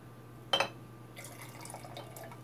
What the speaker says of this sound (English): by decreasing the water in this jar